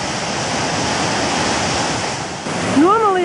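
A wild, flooded river rushing in a steady loud roar, broadband and continuous like surf, with wind buffeting the microphone and a brief bird-like chirp near the end.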